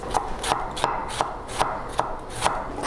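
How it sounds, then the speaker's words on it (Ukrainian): A knife finely chops young garlic on a cutting board in a home kitchen, giving crisp, evenly spaced taps about three per second, close and clear with no talk. "Я нарізаю дрібно чесничок."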